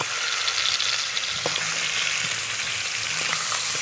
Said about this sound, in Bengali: এই যে কয়েকটা শুকনো লঙ্কা ভেজে রাখবো